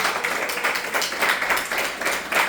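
Audience applause at a Spanish-language Torah portion teaching, a short dense patch of clapping with rhythmic pulses, fairly close and without talk.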